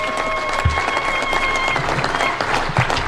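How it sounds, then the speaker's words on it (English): An audience applauds for a female chief guest at an International Women's Day celebration led by President Uhuru Kenyatta in Kenya, with sustained, dense clapping from a crowd throughout. "And can we give her a better clap"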